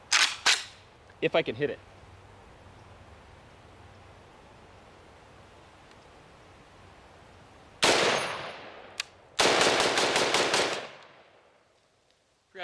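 A compact AK pistol fires 7.62x39 full metal jacket rounds outdoors as a handful of very loud, cracking shots, some in quick succession, each followed by a rolling echo. Someone speaks briefly between shots.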